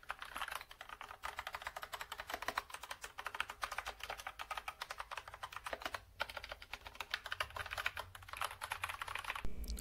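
Rapid, continuous clicking of keys on a DIERYA DK61E keyboard fitted with brown optical switches, close and crisp with a brief pause partway through.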